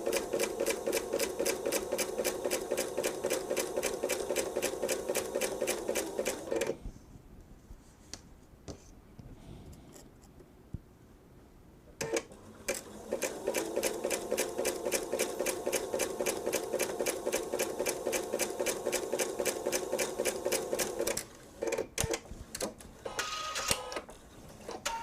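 A sewing machine runs a jellyroll quilt seam in two long stitching bursts, steady and rapid, separated by a quieter pause with handling noise, then stops and restarts briefly near the end.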